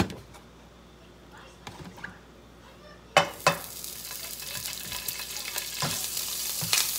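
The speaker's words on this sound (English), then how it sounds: "throw a little butter on there." Butter sizzles in a pan, starting as a quiet fry and then jumping to a louder, brighter hiss with a couple of clanks, continuing steadily to the end.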